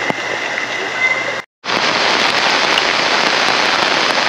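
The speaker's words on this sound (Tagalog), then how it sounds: "Inabot tayo ng ulan." Rain falls outdoors over farmland in a dense, steady hiss with scattered drops, interrupted by a brief cut, then continuing evenly and loudly.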